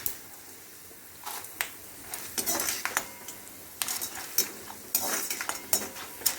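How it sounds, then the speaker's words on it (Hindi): Peanuts fry in two tablespoons of almond oil, sputtering and crackling in uneven bursts with occasional light clinks of a utensil against the pan, fairly quiet and close. "मूंगफली फ्राई हो रहा है, जो आवाज़ आ रहा है"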